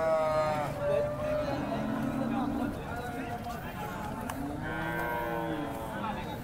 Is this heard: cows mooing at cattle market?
yes